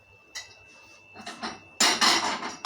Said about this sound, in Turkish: Makinemi boşaltıyorum.